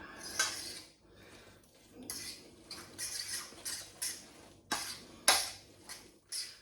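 Carbonara pasta with eggs and cheese stirred in a pan off the heat, a run of quick metallic scrapes and clinks of utensil against pan with a few sharper knocks, close and moderately quiet, with no voices.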